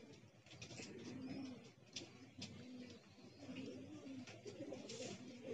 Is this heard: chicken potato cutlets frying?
no